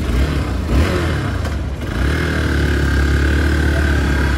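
A new Hero Xpulse 200 4V motorcycle idles and revs close by, the single-cylinder engine holding a steady loud note with a brief dip and rise partway through.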